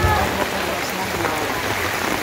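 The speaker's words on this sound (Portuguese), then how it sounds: "E é muita chuva, viu? Chuva forte aqui nas Alagoas." Heavy evening rain pouring down during flooding in Alagoas, Brazil, heard as a loud, steady broadband hiss and wash of water with no break throughout.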